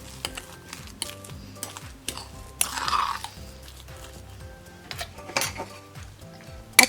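A utensil stirs a potato stick mixture seasoned with salt and white pepper, giving close scraping clinks and taps against the bowl in an irregular rhythm, with a few sharper knocks.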